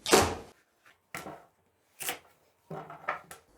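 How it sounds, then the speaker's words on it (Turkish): Knife chopping beetroot into quarters on a board: four separate cutting bursts, each a short crisp crunch with a thud, spaced apart and close by, with no voices. "400 gram pancarı rendenin iri gözüyle rendeleyeceğim. Önce dörde kesiyorum."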